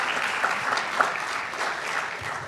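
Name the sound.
audience applause for a sponsor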